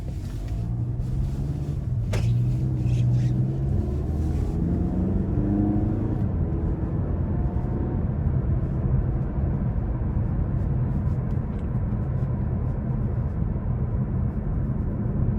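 A 2017 Mazda 6 Grand Touring with a 2.5-liter engine driving on the road, heard from inside the cabin as a steady low engine and road rumble with tire noise and a few small rattles, with no talking.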